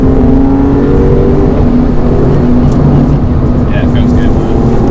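A speed yellow Porsche 996 Carrera 4S being driven hard on a winding road, its engine roaring loudly and continuously with rushing wind noise, while a person speaks over it.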